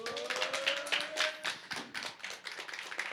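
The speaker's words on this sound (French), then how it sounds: "vous pouvez l'applaudir bien fort." Audience applause for the last contestant at an opening ceremony, a brisk patter of hand claps filling the room at steady loudness.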